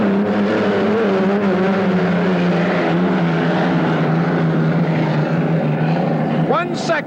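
Unlimited hydroplane racing boats roar around the Seattle Gold Cup course in 1974, a loud sustained engine drone with shifting pitch, heard under continuous excited race commentary.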